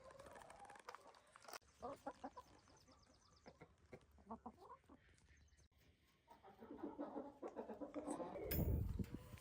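Light Sussex chickens cluck and call in a farm yard, faint and intermittent, with a louder burst of rustling and noise near the end.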